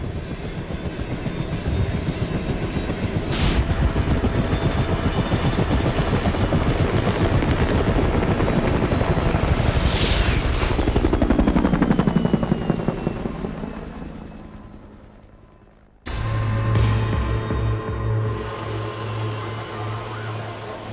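A medical airlift helicopter at a train disaster rescue drones loud and close with a steady beating rotor, swelling and then fading away before a cut to a lower, rumbling engine noise.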